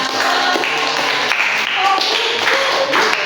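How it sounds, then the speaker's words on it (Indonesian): Students in a classroom clap together in a steady, fairly loud burst that runs the full length, with some faint voices and tones mixed underneath. "Oke, tepuk tangan semuanya."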